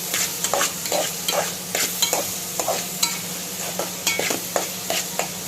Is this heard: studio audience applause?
no